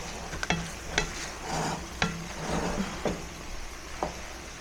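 Leftover rice being stirred and crisped in a pan, with a utensil scraping about once per second over a steady soft sizzle. Nobody speaks.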